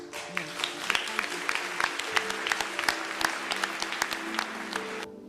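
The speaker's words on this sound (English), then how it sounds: "Round of applause." An audience claps in sustained, dense applause at a talk, a full roomful of hands beating steadily for about five seconds before stopping abruptly.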